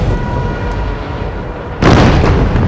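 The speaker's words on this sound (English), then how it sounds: "The explosions send U-405 into a tumble." A heavy rumbling blast hits midway through, a loud sudden low boom with a lingering roar after a stretch of low churning noise, like depth charges bursting underwater around a WWII U-boat.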